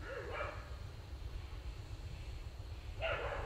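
A dog barks a couple of times at a distance during an outdoor public talk in Madras, faint short yelps separated by a long stretch of steady background hum.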